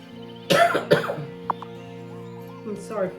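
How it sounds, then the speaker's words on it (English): Two sharp coughs close together from a nearby man, with a brief throat-clearing catch a moment later and faint voice sounds trailing at the end. "Sorry for coughing."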